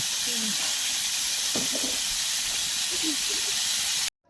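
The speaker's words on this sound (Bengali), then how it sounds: "মাছ ভাজা হয়ে গেছে" Rohu fish frying in hot oil gives a steady, close, bright hiss that fills the whole stretch, with faint voices murmuring under it before it cuts off abruptly near the end.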